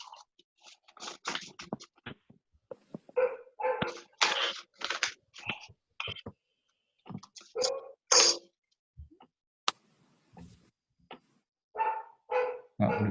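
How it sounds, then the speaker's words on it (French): A dog barks in scattered bursts, the barks irregular and mixed with other short noises and some human sounds. "le chien n'était pas là"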